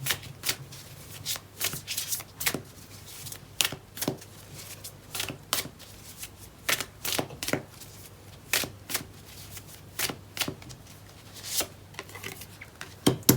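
Tarot cards being shuffled, heard as a steady run of crisp, close riffling snaps and flutters at a quiet level, with no talking.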